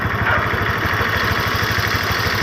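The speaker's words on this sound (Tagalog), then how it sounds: "naka-addar yung motor natin" A Honda Click 125 scooter engine idles steadily up close, a loud, even low putter with a fast regular pulse throughout.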